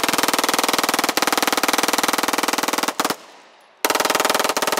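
A full-auto Glock fires from a 100-round drum magazine in long, rapid, evenly spaced bursts, loud and close, broken by one short pause before the firing resumes.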